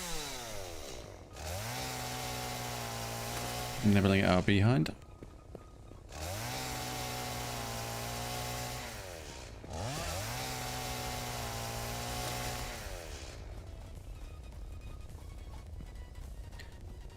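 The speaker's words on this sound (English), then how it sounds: "let's get the chainsaw now that we've not got any enemies" A chainsaw in the video game Satisfactory revs in three long sustained runs separated by short gaps, loud and close with a droning buzz, plus a brief crunchy burst early on. A voice speaks briefly.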